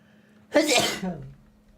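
A single sharp human sneeze bursts out close by, loud and breathy, after a quiet moment, then trails off into a faint exhale.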